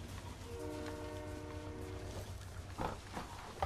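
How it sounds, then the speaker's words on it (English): A train horn in the video game Fortnite sounds a long, steady multi-tone blast from a moving train, moderately distant over a low rumbling background, followed by faint clicks, with no talking. "Okay, train's going to zone."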